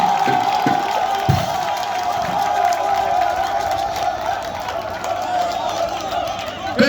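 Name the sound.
crowd cheering and acclaiming the village of Zougouzoa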